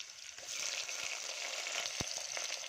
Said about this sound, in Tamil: வெங்காயம் போட்டு நல்லா வதக்குறோம்